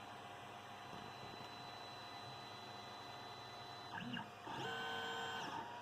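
A 3D printer prints onto a PEI bed with steady whirring motor noise and thin stepper-motor whines. The sound shifts in pitch and rhythm partway through as the print head changes moves. No one speaks.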